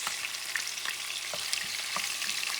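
Onions frying for sofrito over medium heat while cooking a pork stew, giving a steady broadband sizzle with occasional stirring clicks, close and continuous with no talking.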